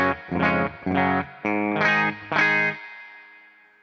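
Five strummed electric guitar chords on the bridge pickup ring out clean through a tube amp, each held briefly, the last one sustaining and fading into decay.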